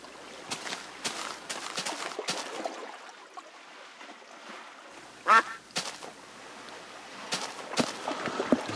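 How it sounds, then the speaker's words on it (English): A duck quacks in short, distinct bursts against a quiet indoor backdrop, with a louder nearby call partway through and a few fainter quacks scattered around it. "Sorry, I keep hearing that darn duck."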